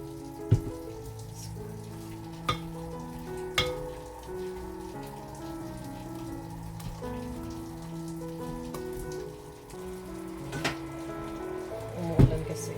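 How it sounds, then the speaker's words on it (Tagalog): Steady rain patters on a surface outside during home baking of coconut cookies, a constant close wash with a few louder knocks, no talk. "Umuulan kasi."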